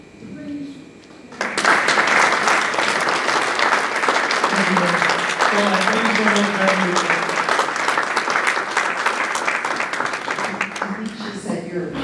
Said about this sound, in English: we owe Jim Holmes a huge round of applause